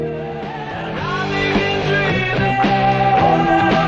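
A band plays the tail of a chorus, arriving on a flat six major chord, full and loud with guitars and a rising chord movement, no talking.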